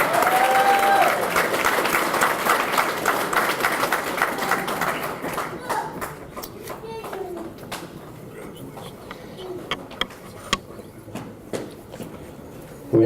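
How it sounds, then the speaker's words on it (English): Banquet audience at a memorial scholarship banquet applauding a recipient, loud sustained clapping that gradually thins to scattered claps, with voices murmuring and speaking underneath. "Give Brianna a round of applause, please."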